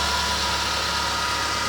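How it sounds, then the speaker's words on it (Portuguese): A Ford Fiesta EcoSport engine idling after a timing chain kit replacement: a steady, even hum with a constant drone and no knocking, close and alone. "Como vocês podem ouvir, tá aí o funcionamento do motor, né?"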